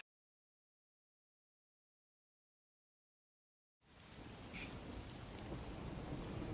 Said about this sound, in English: melts against the sound of rain.